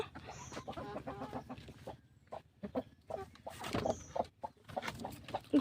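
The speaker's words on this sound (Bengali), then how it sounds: "মুরগিগুলোর খেতে দিতে আসলাম দেখো টাকার সাথে সাথে ওরা চলে আসলো" Chickens clucking close by as they gather for feed, a busy run of short clucks and calls in irregular bursts, some loud, others softer.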